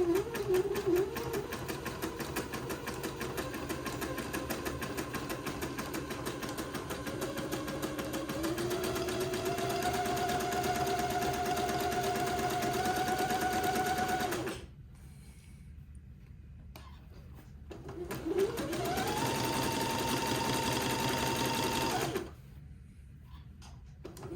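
A sewing machine zigzag-stitches through fabric on a smocked bonnet, tacking a mitered corner in place. The whir is steady and close, stops for a few seconds, then runs again briefly before halting.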